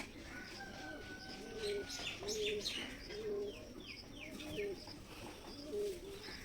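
Giribaj pigeons at their roost coo in a steady, repeating rhythm of low, soft notes, with higher chirps and light flutters scattered behind them, moderately near.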